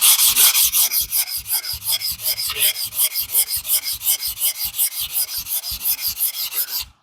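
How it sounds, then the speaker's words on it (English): Oscillating sander fitted with 80 grit paper scouring a rusty cast iron saw table, a loud, steady rhythmic rasping of quick back-and-forth strokes that runs close up and alone for about seven seconds before stopping. "This is just 80 grit for my oscillating sander."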